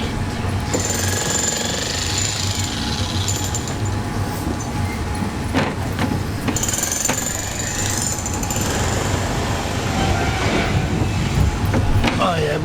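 A train on the Death Railway at Kanchanaburi, Thailand, rumbles along with a loud continuous clattering and rattling from the rails, and occasional voices are heard under it.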